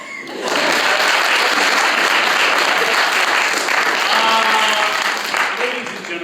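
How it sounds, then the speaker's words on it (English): An audience at a high school theatre winter cabaret breaks into loud, sustained applause that swells quickly and holds steady for several seconds, with some voices mixed into the clapping. "Another round of applause."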